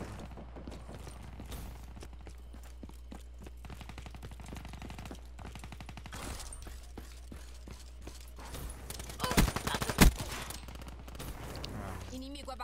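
Rapid bursts of gunfire from an Xbox video game crackle in uneven volleys, with sharp louder shots near the end over a steady background hum and clicking mechanical sounds.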